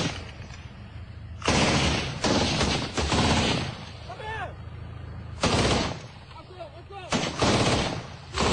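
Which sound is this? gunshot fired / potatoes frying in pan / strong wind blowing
gunshot fired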